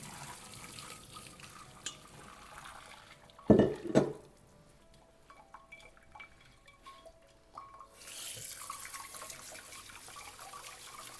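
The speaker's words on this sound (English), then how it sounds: "we will be straining them now and washing them with cold water to get rid of all the excess starch" Cold tap water rinsing cooked noodles in a strainer: a few sharp clatters, then several seconds of steady running and splashing water at moderate loudness, fading back to quiet kitchen background.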